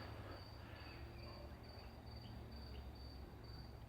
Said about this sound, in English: Those crickets are going mad.